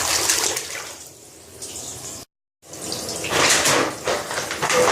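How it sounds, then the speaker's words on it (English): Water emptied from a bucket of aquarium sand pours and splashes out in two loud bursts separated by a brief silent gap, close and alone. "Just repeat the process, empty out the water, not the sand"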